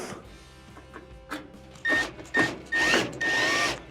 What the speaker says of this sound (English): Reinstall your Phillip head screws.